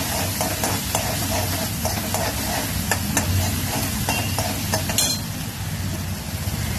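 Green chili and ginger sauté in an old cooking vessel, a dense close sizzle with repeated stirring knocks and a metallic clink near the end.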